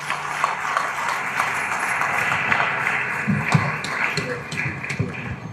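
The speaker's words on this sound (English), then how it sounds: "Can we please give them a round of applause?" An audience at a graduation ceremony applauds the graduates, a steady wash of clapping with sharper claps scattered through it.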